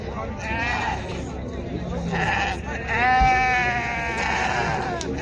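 Lambs bleating at a sheep and livestock market in Shymkent, several overlapping wavering cries close by over a steady background of crowd noise.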